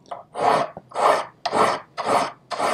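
A hand file rasps across a small metal Japanese seppa spacer, five steady strokes in an even rhythm, each a broad scraping burst with brief pauses between, close and clear with no talking.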